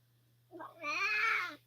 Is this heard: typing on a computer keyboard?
no